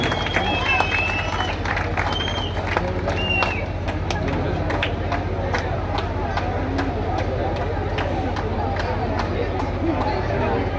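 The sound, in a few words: audience applause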